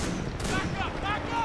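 Dense, rapid machine-gun fire from the Titanfall 2 video game in a multiplayer match roars without a break for the whole brief moment, loud and close.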